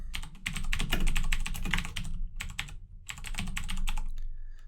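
Fast keyboard typing while coding a Finite State Machine for enemy behavior in a 2D platformer game, a dense run of clicking keystrokes in quick bursts with two short pauses, close and fairly loud.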